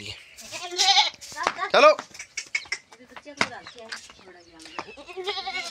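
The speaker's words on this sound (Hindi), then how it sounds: "बकरियों के पास जा रहे हैं इसको उधर छोड़ने के लिए" Goats on a farm bleating repeatedly at close range, several loud wavering cries in quick succession with someone talking over and between them.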